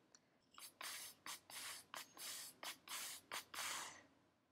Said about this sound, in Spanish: Y el guasá suena así.